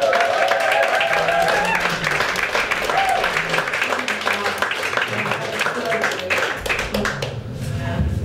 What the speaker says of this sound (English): So why doesn't everybody give a round of applause?